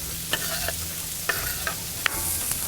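Chopped onions sizzling in oil on a Blackstone flat-top griddle, a steady close frying hiss broken by a few sharp clicks and scrapes of a spatula stirring them around.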